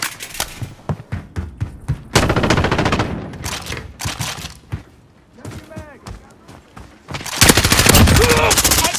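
Gunfire in the shooter Call of Duty: Modern Warfare, with loud close bursts and single shots coming in uneven clusters. Dense sustained firing at some points alternates with quieter gaps, and game voices call out between the shots.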